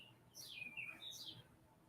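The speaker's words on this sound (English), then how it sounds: "Even the birds is chirping." Birds chirp outside in two faint, thin, high sweeping calls, distant and soft over a low background hiss.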